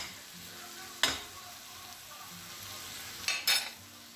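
Olives and cherry tomatoes sizzle and hiss quietly in olive oil in a pan, with two short clatters of a utensil stirring against the metal.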